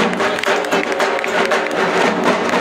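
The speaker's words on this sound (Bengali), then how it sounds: "জোরে করতালি দিয়ে স্বাগত জানাই" A loud festival crowd at a Durga Puja khuti puja ceremony in Dum Dum claps steadily to welcome minister Sujit Bose, the dense applause running unbroken throughout with a faint murmur of voices beneath.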